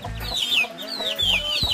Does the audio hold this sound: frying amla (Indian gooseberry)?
no